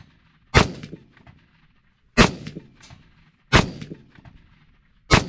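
Four loud rifle shots fired downrange while sighting in a scope for deer season, each a sharp close crack with a short echoing tail, spaced about 1.5 seconds apart.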